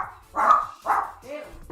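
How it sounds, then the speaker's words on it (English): A dog barks twice, fairly close and moderately loud, with a softer whimpering yip after, against a quiet indoor room. "That dog that you heard barking there is probably the smartest dog I've ever had."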